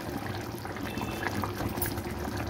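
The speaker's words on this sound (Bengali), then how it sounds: "অল্প একটু ঘি দিয়ে দিলাম" Ghee poured into a hot pan while katla fish kalia cooks, a soft continuous sizzling and bubbling hiss at moderate level, steady for a couple of seconds with no talking.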